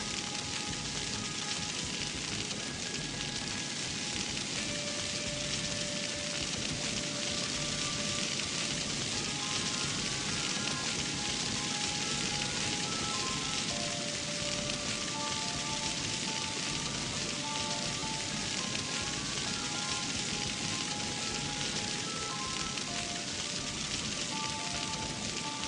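Rain falls from a rain cloud in the video game Mimpi, a steady, even hiss that continues alone for the whole stretch while soft, sustained game music tones drift above it.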